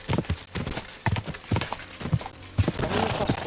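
Horse hooves clip-clopping at a steady, slow walking rhythm in the medieval game Kingdom Come Deliverance 2, distinct regular thuds close and fairly loud, with faint ambient background.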